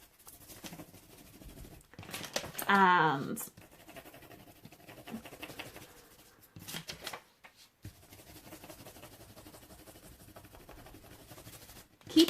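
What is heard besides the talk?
crayon rubbing over leaf on paper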